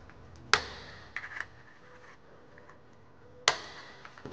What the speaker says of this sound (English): Then I'm gonna just cut a few lines here.